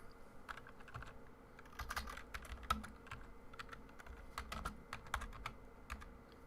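Steady typing on a computer keyboard, rapid clicks and clacks in irregular bursts, close to the microphone with no voices.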